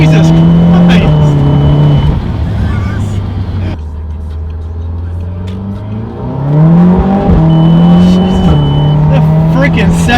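An Audi TTS with an APR Stage 3 tune revs hard from inside the cabin, the engine note climbing, dipping and climbing again as it strikes a fuel cut, loud and near, with voices over it.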